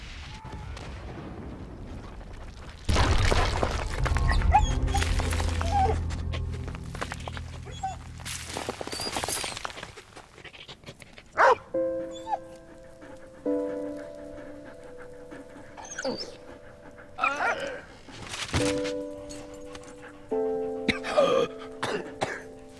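In the video game Valiant Hearts, a dog pants and gives short barks amid wartime effects: a heavy explosive rumble early on, then intermittent sharp bursts and sustained tones.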